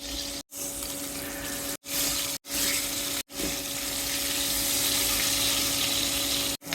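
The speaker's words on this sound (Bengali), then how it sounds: "এগুলো একে একে ভেজে নেব।" Fish frying in hot oil for a home-cooked Bengali fish dish, a steady broadband sizzle running throughout, broken by a few brief silent gaps, fairly close and moderately loud, with no talking.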